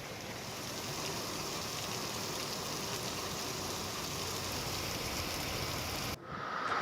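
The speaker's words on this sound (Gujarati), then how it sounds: "पवन साथे धोधमार वरसाद वरस्यो।" Heavy wind-driven rain pours down in Vanthali, Junagadh, Gujarat, making a dense, steady roaring hiss that runs unbroken and then dips briefly near the end.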